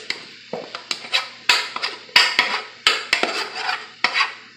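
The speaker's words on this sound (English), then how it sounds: "So we're going to transfer the rice to your sauteed veggies." Cooked rice being transferred and stirred into sautéed vegetables in a pan, heard as a series of close scraping, clinking utensil strokes against cookware in an irregular rhythm, with no talking.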